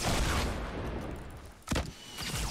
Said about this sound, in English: Pretty sure he just shotgunned him